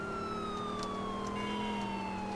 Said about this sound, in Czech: Tohle to se počítá jako policejní auto, ne?